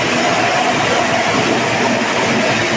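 A steady, loud mechanical drone with a rushing, roaring quality runs unbroken throughout from a homemade 20 kW wood-fired generator running close by without a proper exhaust.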